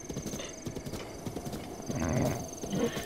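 Horse hooves galloping in steady rhythmic clip-clops through The Legend of Zelda: Breath of the Wild, with a whinny mixed in, fairly close and unaccompanied by talk.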